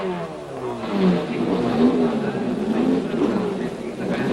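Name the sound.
racing cars coming out onto the starting grid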